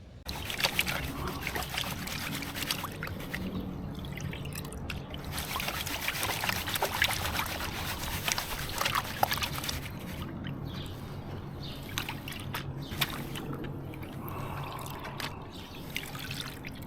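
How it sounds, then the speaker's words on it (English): Gold panning with a pan of plus kitchen-strainer-size gravel and quartz from a Crisson Gold Mine nugget bucket, water sloshing and trickling steadily at close range with no talk over it. "now we're going to pan out the plus kitchen strainer size"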